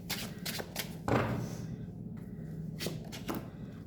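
Tarot cards are shuffled and drawn during a reading, heard as several quick riffling bursts and a louder slap of cards, up close and quiet with no talking.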